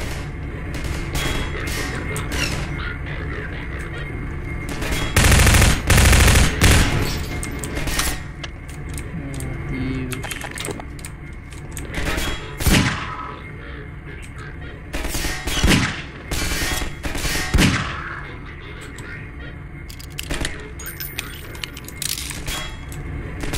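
Bursts of Half-Life 2 gunfire, sharp single shots and rapid volleys, loud and close, with scattered cracks and quieter stretches between the shooting.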